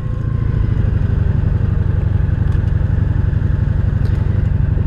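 A 1983 Honda Sabre VF750S motorcycle under way, its engine a steady, loud, buzzing drone with rushing wind noise, constant and close throughout.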